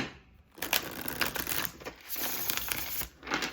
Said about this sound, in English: I'm just gonna cut this deck and shuffle it quite a few times.